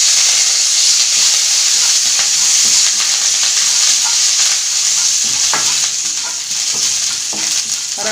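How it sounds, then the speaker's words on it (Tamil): Curry leaves frying in hot oil for chow chow chutney, a loud, steady close sizzle and hiss with occasional stirring and no talk. "கருவேப்பிலை நல்லா பொரிஞ்சிச்சு."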